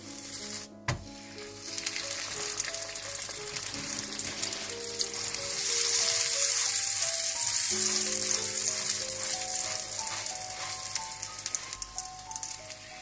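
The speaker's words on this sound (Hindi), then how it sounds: "इसी तरह से आप ऊपर दोबारा मक्खन डालें, इसको पलट दें" Aloo paratha fries in butter on a pan, giving a loud, continuous close-up sizzle that swells midway, with a faint tonal hum in the background and no speech.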